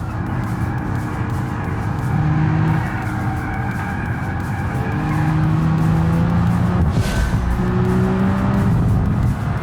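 In the BeamNG game, a car brakes hard with loud, sustained tire squeal and skidding over a steady engine roar, the screech rising and falling close up.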